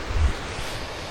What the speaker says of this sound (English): So I think we're going to follow this waterfall, stream, river thing.